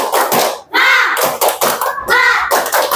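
A school class performs a rhythmic spirit clap, loud close bursts of many hands clapping in a set pattern, with short pauses between groups and children's voices chiming in.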